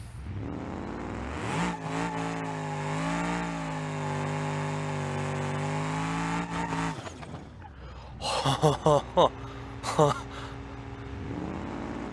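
A turbocharged engine in BeamNG.drive, running 30 pounds of boost on a Barstow revival project car, revs loudly and climbs in pitch before cutting off, followed by short sharp bursts of revving and tire squeal.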